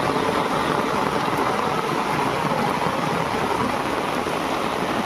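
Heavy monsoon rain pours down beside a stream during a crab-catching outing, making a dense, continuous hiss that stays loud and even throughout.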